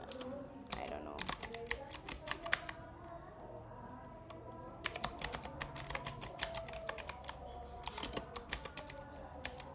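Brisk typing on a computer keyboard while writing a Solidity contract, clusters of quick clicky keystrokes in two bursts separated by a quieter pause, close and alone.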